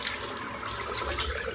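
Tap water runs steadily over hands while rinsing during a head shave, a continuous close splashing hiss with no break and no voices.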